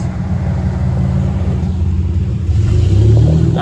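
Turbocharged 4.3 V6 engine in a budget drift truck running on a dyno, a loud continuous low drone that swells as the revs climb near the end, with no talking.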